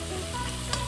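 A short burst of onions, celery, garlic and habanero frying in a pot, a steady close sizzle with one brief stirring clink near the end, no talking.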